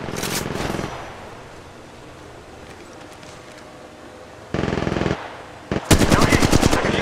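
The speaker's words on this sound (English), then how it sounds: "Opening fire." Rapid automatic gunfire in the Apex Legends Mobile battle royale game, loud bursts at the start, a sustained burst midway and a fierce close volley at the end, with quieter game ambience between.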